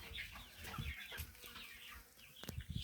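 Chickens on a small poultry farm clucking and squawking close by in short irregular bursts, several birds overlapping with quiet gaps between calls.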